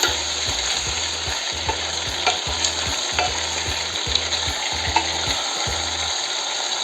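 Sautéed rice with strips of red bell pepper being stirred in a pan, a loud close sizzle under a regular rhythm of spatula scrapes and knocks, about a dozen strokes before it stops.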